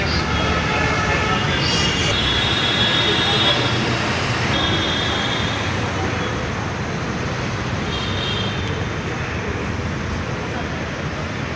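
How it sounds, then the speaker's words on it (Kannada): Continuous low rumble and rushing noise of a Bengaluru metro train in motion from Challaghatta station, with faint high electrical whines coming and going. "ಬನ್ನಿ ಮೆಟ್ರೋದಲ್ಲಿ ಸಾಗೋಣ"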